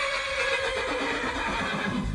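A horse in the video game Skyrim whinnies in a drawn-out, wavering neigh, fairly loud and close, with faint hoof movement underneath.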